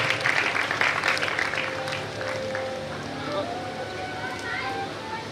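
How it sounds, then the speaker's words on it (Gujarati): An audience at a community award ceremony for students gives steady, fairly loud applause for a prize winner, and the clapping continues evenly throughout without fading. "મિત્રો જોરદાર તાળીઓથી વધાવીએ ડાલકી આશાબેન ભરતભાઈ."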